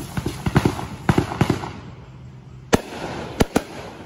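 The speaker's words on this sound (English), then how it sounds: "I know they were just little itty bitty fireworks" Small Fourth of July fireworks pop and crackle outdoors at night, a cluster of quick bursts followed by a few louder, sharper isolated bangs at moderate distance.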